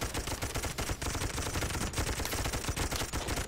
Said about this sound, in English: it gives your machine guns time to